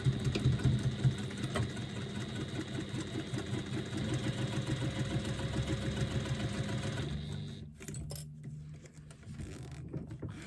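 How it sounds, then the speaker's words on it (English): A sewing machine stitching in a zipper hums steadily at a fast, even rhythm for several seconds, then slows and stops with a few faint clicks. "we're going to stitch that zipper in place"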